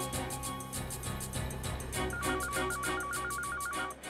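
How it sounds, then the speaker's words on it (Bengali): A telephone rings with a warbling electronic tone that starts partway through and repeats rapidly until the end, set against a busy musical background. "রিং হচ্ছে স্যার।"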